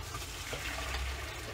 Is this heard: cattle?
no